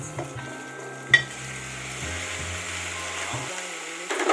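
Shrimp fry in chili garlic oil with a soft, steady sizzle. Stirring clinks and a low hum sit behind it, and the sound is quiet and close.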